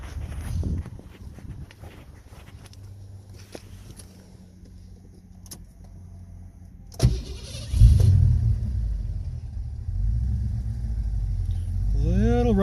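An old car engine fires up after an ignition coil test and runs rough with a misfire right off idle, a low, uneven rumble that follows quieter handling noises and carries on steadily to the end.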